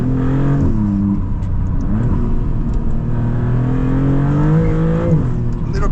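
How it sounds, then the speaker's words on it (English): A 2026 Maserati MCPura engine drones under load with quick throttle blips on paddle-shifted downshifts, its pitch dropping and rising in steps, close and steady. "Blipping of the throttle on the downshifts, very responsive paddles as well."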